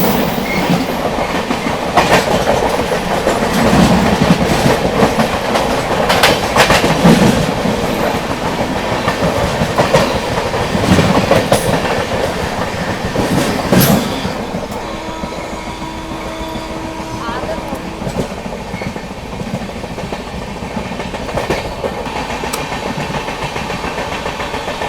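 Lichchavi Express passenger train running at speed on an Indian railway line, with a steady rolling rumble and wheel clatter that is loud and busy at first and then settles into a quieter, even drone.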